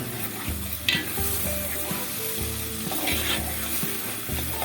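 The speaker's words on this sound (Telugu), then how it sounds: "టమాటో జ్యూస్ని ఇందులో వేసుకొని బాగా కలుపుకోవాలి" Fried veg manchurian being stirred into tomato juice in a hot pan: loud, close sizzling runs under repeated, rhythmic scrapes and clinks of a spoon against the pan, with no talking.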